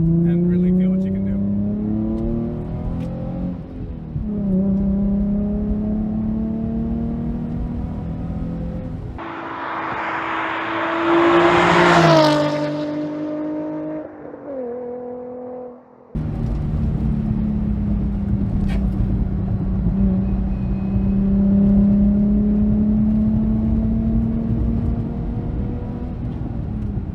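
A Nissan 350Z accelerates hard through several gears, its engine note climbing and dropping with each shift, loud and close from inside the car, with a brief burst of wind roar and a lift-off in the middle.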